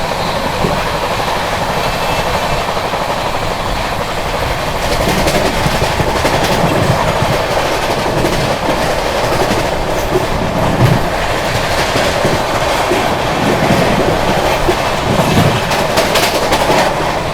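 Mahabodhi Express train, heard from on board, runs through Khurja junction with a loud continuous rumble and rhythmic clickety-clack of wheels over rail joints, steady throughout.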